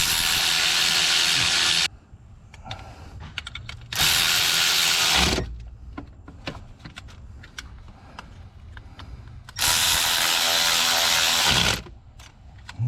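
A ratchet or power driver tightens a bolt on the glow plug relay of a 7.3 Power Stroke diesel in three loud, sustained whirring bursts, separated by clicks and rattling of the tool.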